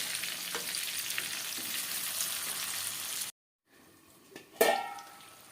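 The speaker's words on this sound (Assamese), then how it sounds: "কোমোৰাখিনি দিয়াৰ পিছত আমি অকণমান লৰাই পেলাই ঢাকোন দি ভাজিম, কাৰণ কোমোৰাখিনি সিজিব লাগিব, লগতে আলুও সিজিব লাগিব।" Duck curry with pumpkin and potatoes frying in a pan, a steady close sizzle for about three seconds, then a brief silence as the lid goes on, followed by quieter frying and a sharp clatter.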